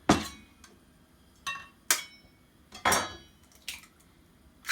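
A spoon clinks and scrapes against a bowl as minced chicken is mixed with an added egg, several sharp separate knocks spaced unevenly, close and fairly quiet with no talking.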